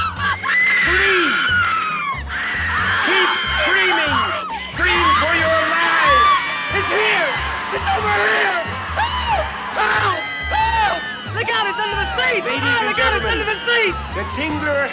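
A packed movie theater audience screams and whoops at a screening of The Tingler, loud overlapping shrieks and yells from many people rising and falling over a low rhythmic music or effects track.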